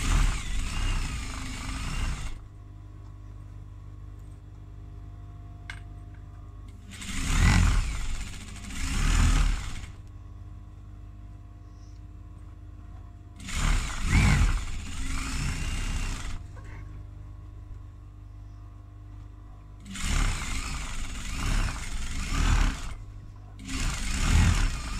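A home sewing machine runs in four bursts of top stitching on a project bag, each lasting a few seconds with quiet pauses between, the motor whirring steadily and fairly close.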